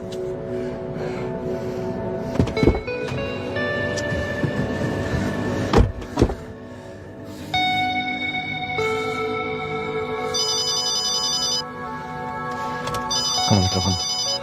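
A telephone rings in an Indonesian drama film, a steady electronic ringtone of repeating tones that sounds alone for a stretch, with a few clunks and thumps around it.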